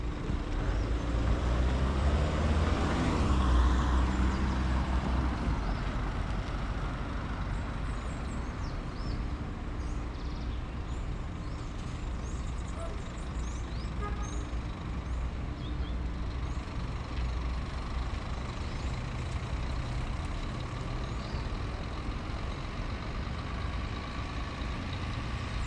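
A Catedral bus rumbles into the Recife bus station to board passengers, a low steady diesel engine hum with a brief louder surge at the start, then a quieter idle-like drone without voices.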